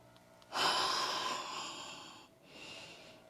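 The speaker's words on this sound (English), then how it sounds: "Nice deep breaths." A long, deep breath during a yoga session: a strong, breathy exhale lasts nearly two seconds, then a softer second breath follows, close to the microphone with no talking.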